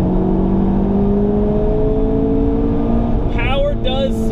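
A Honda Civic Type R engine pulls hard toward the red line, its loud, close drone climbing steadily in pitch before a brief wavering change near the end.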